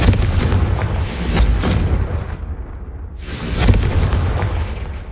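Confringo fire-spell blasts in Hogwarts Legacy, heavy booming explosions with rumbling roars, one big burst early and another after a short lull, loud and close with no talking.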